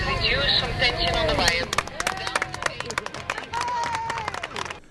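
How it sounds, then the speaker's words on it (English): Hundreds of onlookers on a shoreline clap in a sustained round of applause as a grounded oil rig is salvaged, the dense patter mixed with crowd chatter and someone talking over it. "what we did hear in the background was a round of applause from many of the, there were hundreds of onlookers there"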